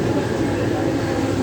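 A Mumbai local train pulls into Masjid station, a loud, steady rumble of rolling carriages close by, unbroken for the whole moment.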